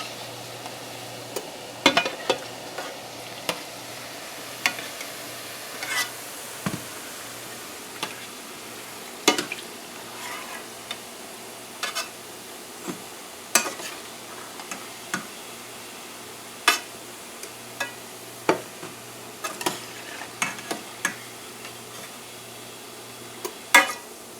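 Mithai dough frying in a pan makes a soft, steady sizzle, broken by scattered crackles and pops throughout. No one speaks.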